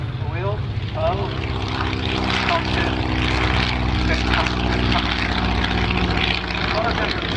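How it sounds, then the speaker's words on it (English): An Avro Tutor biplane takes off at an evening air display, its propeller engine droning loud and steady with a rich, even tone while a commentator speaks over it. "Now taking off first is the average Tutor"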